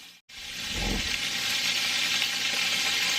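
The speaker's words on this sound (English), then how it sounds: "Alright, these are frying up crazy." Food frying in a pan on a stovetop after being microwaved with water, a loud continuous sizzle that starts abruptly and holds steady throughout, with no talking.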